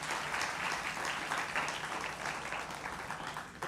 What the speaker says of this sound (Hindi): एक बार फिर तालियों के साथ स्वागत करिए